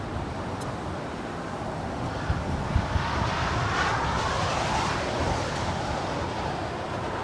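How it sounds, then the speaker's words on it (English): A Lufthansa Boeing 747-8 departing Los Angeles airport, heard as a steady, broad jet roar from some distance with a slowly shifting rush, mixed with wind on the microphone and no voices. "This is Lufthansa Flight 457 departing to Frankfurt. It's a Boeing 747-8, 8 years of age."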